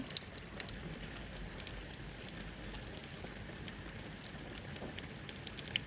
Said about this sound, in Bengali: এখন সকাল 7টা বাজে, কন্টিনিউ বৃষ্টি পড়তেছে